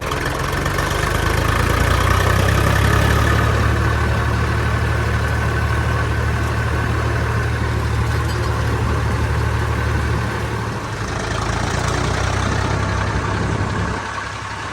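A farm tractor's engine runs steadily as it drives home, a loud, close, continuous low rumble with a throaty knock that eases briefly near the end before picking up again, with no talking.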